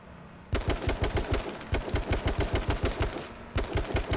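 Machine gun firing in H1Z1 in a steady, evenly paced stream of loud, punchy shots up close, starting after a short quiet moment and running on with a brief pause near the end.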